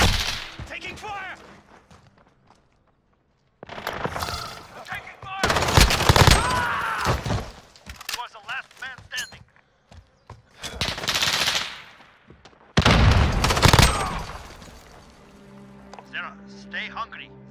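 Bursts of rapid automatic gunfire and single shots in Call of Duty: Modern Warfare, loud and close, coming in several separate volleys with quieter gaps and game voice callouts between them.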